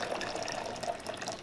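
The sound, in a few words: pouring hot water into blender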